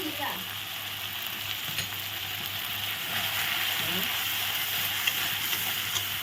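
Spices, including chilli powder, salt and turmeric, sizzling in hot oil with a constant hiss and faint stirring underneath, close and even throughout.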